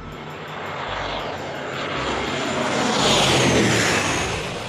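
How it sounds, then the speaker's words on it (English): A fixed-wing airplane engine drones steadily as a sound effect, with the roar swelling toward the middle and easing off at the end. No voices are heard. "I'm flying on an airplane."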